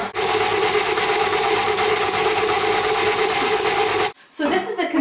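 An electric hand mixer whisks egg whites for Japanese hot cakes, a loud steady motor whir running close and continuously before stopping abruptly near the end, followed by a brief clatter.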